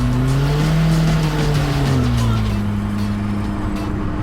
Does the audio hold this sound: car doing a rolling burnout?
yes